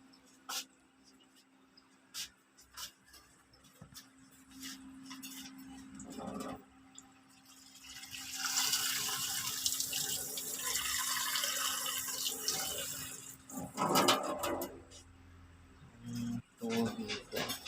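A kitchen tap runs steadily for several seconds while drinking water is fetched for cats on a hot day, a broad hiss rising in the middle and then easing off, with a person talking before and after.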